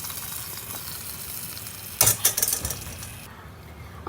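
Mustard seeds and cumin tempered in hot oil sizzle sharply as they are poured into rasam, a brief loud crackling burst after a steady low simmer, with no talk.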